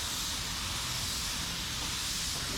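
A spray gun lays sealer onto a car body panel in a continuous, loud, close hiss that holds steady without a break, with no voices present.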